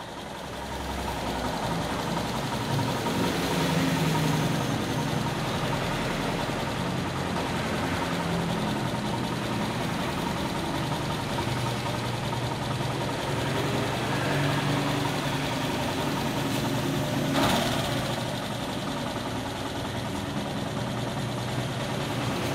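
A Yamaha YTX motorcycle engine idles steadily and fairly loud at close range, a continuous low running hum throughout while the idle is being lowered during an air-fuel mixture adjustment.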